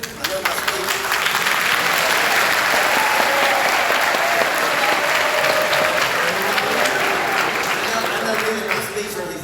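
A large crowd at a TN Boys State assembly applauds loudly and continuously, dense clapping sustained across the whole stretch at close range, with some voices mixed in.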